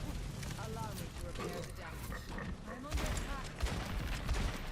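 Rapid rifle shots from Ashe in Overwatch, a Nintendo Switch match, crack repeatedly as dense, busy gunfire through game noise, heard under continuous commentary.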